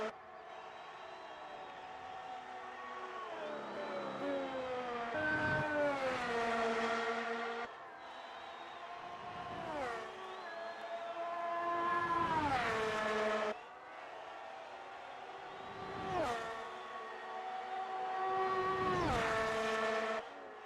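Formula 1 race cars lap Monza in a racing video game, with high, whining engines rising and falling through gear shifts as several cars sweep past one after another at moderate volume.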